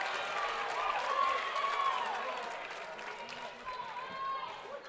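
Basketball crowd in a high school gym reacting to an offensive foul call, a rolling murmur of voices with scattered shouts and some clapping, moderately loud and swelling then easing.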